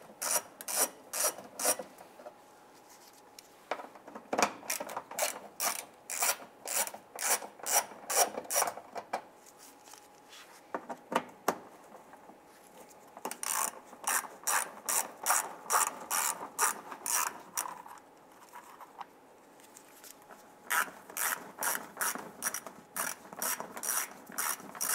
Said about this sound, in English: We're going to use 5/16 socket in our ratchet and remove the screws around the